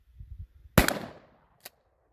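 A shotgun with a Vang Comp ported barrel fires one load of buckshot at a target 21 yards away outdoors: a single loud, sharp blast with a quick decaying tail, then a brief faint click a moment later.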